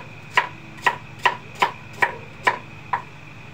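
Knife chopping ingredients for sinigang na bangus, seven crisp, evenly spaced strikes on a board, close and clear with no talk.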